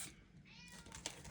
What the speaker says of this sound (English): She has been meowing like that since I got home.